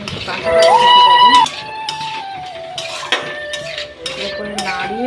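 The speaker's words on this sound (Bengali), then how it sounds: "এগুলো দিয়ে ভালো করে এগুলোকে নাড়িয়ে আর ঢাকা দিয়ে দেবো" Potatoes and carrots are stirred in a metal pan, giving ringing clanks and scrapes of a utensil against the pan, then a lid clatters on; the clatter is close and irregular with a voice in the background.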